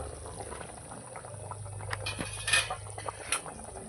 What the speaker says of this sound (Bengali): আমার ঝোল ফুটে গেছে ভালো করে